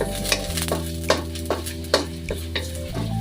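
Sliced ginger sizzles in a hot pan while being stirred with a utensil, giving a close, steady fry hiss with several sharp scraping clacks spaced through it, and no talk.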